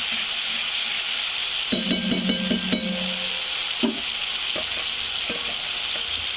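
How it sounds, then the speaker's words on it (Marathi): Cumin, mustard seeds and onion fry in hot oil in a pan with a steady close sizzle, broken by a few spoon taps and stirring scrapes against the pan, with no voices. "जिरे, मोहरी, कांदा असा टाकून छानपैकी असं फ्राय होऊ देणार आहे."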